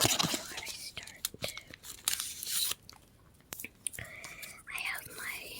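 Gum is chewed close to the microphone, with soft wet crunching and smacking bursts between quiet whispered speech in a hushed room.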